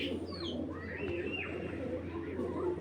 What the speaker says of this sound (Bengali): এটা কিন্তু অরিজিনাল নেদারল্যান্ডের ব্রিডের কবুতর, নেদারল্যান্ডের হ্যারি ব্রিডের কবুতর।